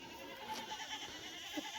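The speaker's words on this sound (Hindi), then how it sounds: "तो हम लोग आ गए हैं अपनी बकरियों को निकालने।" Goats bleat faintly at a village pen while being let out to feed on berseem fodder, a thin wavering cry under steady background noise.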